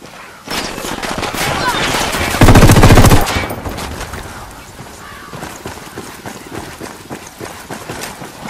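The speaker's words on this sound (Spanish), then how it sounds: "Disparando." Sustained machine gun fire in the video game Ghost Recon Wildlands, a loud rapid burst that swells into a heavier blast before trailing off into scattered, fainter shots.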